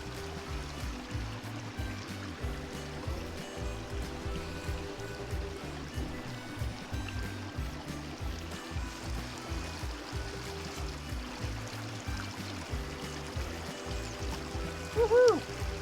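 Gold panning in a creek in Gold Canyon, Dayton, Nevada, with water steadily sloshing and swirling in a pan in a rhythmic pattern, close and moderately loud, with a brief louder splash near the end.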